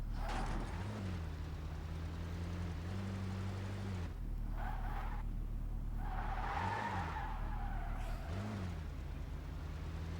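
An ambulance car in the Car Simulator 2 video game drives with a steady droning engine whose pitch rises and falls, while tires repeatedly squeal and skid in long scraping bursts.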